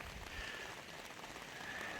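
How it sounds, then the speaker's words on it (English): Steady rain falls outside a farm house at night, a constant close hiss of drops pattering on surfaces with no voices over it. "And the rain is coming down."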